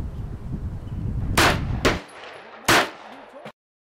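Gunfire aimed into a 10-pound block of ballistics gel: a few loud, sharp shots in quick succession ring out at close range over a noisy background, then cut off abruptly.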